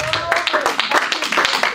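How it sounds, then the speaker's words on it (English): A church congregation clapping hands together in a steady, lively rhythm during worship, close and fairly loud. "Let's clap, let's rejoice, let's celebrate."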